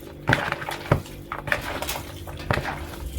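Meatball mixture with garlic paste is worked by hand in a pot, giving irregular clinks and knocks of metal and dishes with soft squishy handling in between, close and moderately loud.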